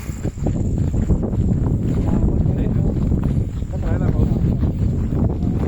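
Strong wind buffets the microphone in heavy, rumbling gusts throughout on a village evening as rain gathers, with a voice briefly audible beneath the roar.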